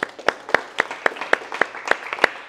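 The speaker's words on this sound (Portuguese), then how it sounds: "Aplauda Jesus." Slow, evenly spaced claps, about ten sharp hand claps in a steady rhythm, close and fairly loud, from a church gathering applauding.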